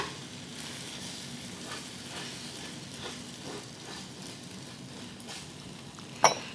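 Food frying in a carbon steel frying pan, a soft steady sizzle heard close and fairly quiet, with a brief clink near the end.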